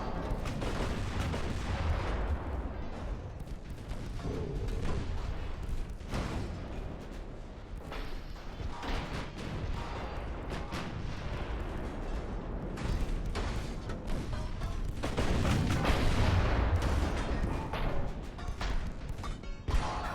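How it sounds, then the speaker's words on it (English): Naval gunfire in Ultimate Admiral: Dreadnought, with shells ricocheting off warship armor: repeated booming impacts and sharp metallic cracks over a dense rumbling battle bed, loudest near the end. "You see the shells ricocheting off the armor."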